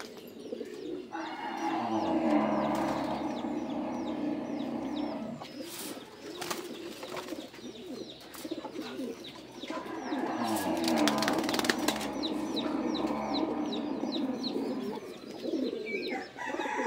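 Several pigeons in a loft coo in repeated low, rolling phrases, fairly close and steady, with occasional bursts of wing flapping and rustling breaking through midway and again later.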